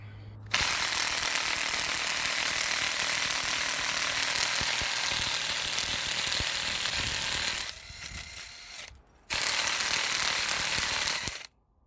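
A Black & Decker power tool running during work on a Moto Guzzi cafe racer exhaust: a loud, continuous mechanical ratcheting whir, a brief dip and pause near the end, then it resumes.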